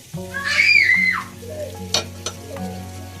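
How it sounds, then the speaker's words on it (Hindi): Spices added and stirred into frying fish curry, with a brief burst of sizzling and a couple of sharp clinks of a utensil against the pan, close and short, under a faint tonal background. "और ये मसाले डालने लगी हूँ जो मैंने आपको बताए थे।"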